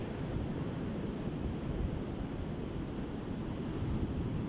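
Soft sea waves wash in a continuous, even hiss, faint and distant with a gentle wind-like texture and no voices, suited to a calm seaside meditation.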